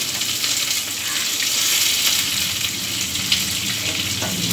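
Fenugreek and cumin seeds fry in hot oil for a Tamil fish kuzhambu, a steady, bright crackling sizzle that holds evenly throughout with small pops.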